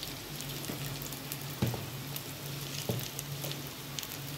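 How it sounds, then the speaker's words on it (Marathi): Alu vadi pieces shallow-frying in oil over a low gas flame give a steady, soft sizzle with a few sharper pops, heard close and alone with no talking. "कमी गॅसवर थोड्या ह्या कडक करून घ्यायच्या।"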